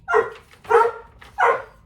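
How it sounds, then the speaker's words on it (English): A dog barks three times in an indoor home sewing setting, loud and close, each bark sharp and evenly spaced about half a second apart. "Maybe the dog will shut up."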